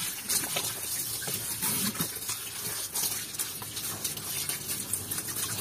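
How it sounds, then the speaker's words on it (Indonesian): Fabric being rinsed under running water for an ecoprint mordant process, a continuous gushing splash from a tap with irregular sloshing as the cloth is moved, close and fairly loud. "Bilas kain sampai benar-benar bersih."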